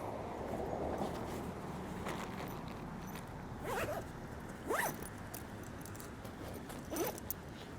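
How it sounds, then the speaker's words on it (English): A bag is zipped up outdoors on a walk through a park, the zipper making several quick rasping pulls against a steady background of wind and ambient noise. "I have to zip my bag up"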